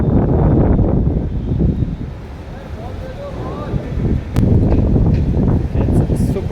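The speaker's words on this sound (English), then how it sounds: "It's super windy." Strong gusting wind roars across outdoor tennis courts in Jaipur, buffeting the microphone in loud rumbling surges that dip briefly and then swell again.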